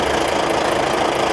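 A truck engine runs steadily at idle just after starting, a loud, close, continuous knocking rumble with no pauses and no talk over it.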